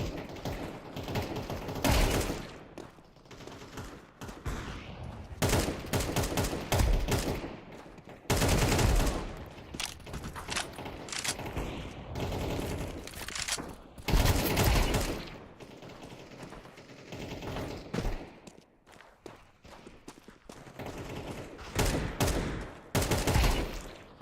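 Rapid gunfire bursts from a first-person shooter game, loud and close, with repeated volleys and clattering mechanical weapon sounds spread throughout, no voices.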